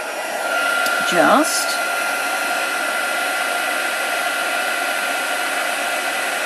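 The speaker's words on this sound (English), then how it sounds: "Now you want to heat up your heat tool reasonably well before you go on your card" A crafting heat tool for embossing blows hot air in a constant, loud, close whoosh with a faint whine, briefly under a single spoken word near the start.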